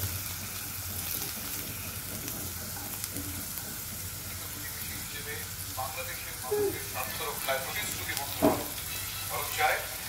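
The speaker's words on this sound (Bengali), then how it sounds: "জিরে ফোড়ন" Cumin seeds sizzling in hot oil in a home kitchen pan for tempering, a steady frying crackle throughout, with voices talking over it and a few sharper pops toward the end.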